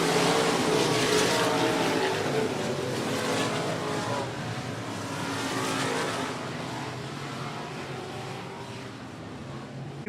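Limited modified race cars thunder around the 105 Speedway oval, their engines a continuous loud roar that swells and eases slightly as the pack circles.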